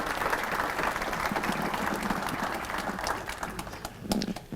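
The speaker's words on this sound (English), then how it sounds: "Please give them a round of applause for me." A crowd applauds Hall of Honor inductees at a 2013 Mustang athletics ceremony, with dense, sustained clapping filling the room and holding steady for several seconds.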